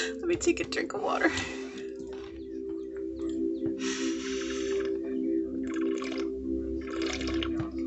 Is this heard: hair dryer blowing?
no